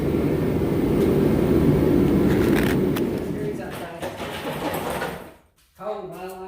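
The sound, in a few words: vacuum sucking out dirt from Mustang body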